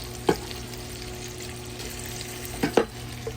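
Sausage browning in a pot for a sausage and potato hash gives a steady low frying hiss, with a few brief scraping stir clatters near the start and end. Nobody speaks.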